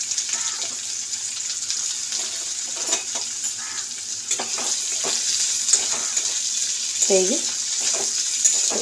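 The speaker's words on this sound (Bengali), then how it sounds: "তো পেঁয়াজটাও দিয়ে দিয়েছি। তো এইটা একটু ভাজা ভাজা হয়ে যায়।" Onion and panch phoron frying in a pan for doi kochu, a steady close sizzle with scattered stirring scrapes throughout, and someone briefly talking over it.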